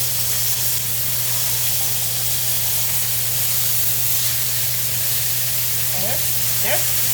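Lamb steaks sear in a hot pan with a loud, steady, hissing sizzle that fills the whole stretch, with a couple of brief clinks near the end.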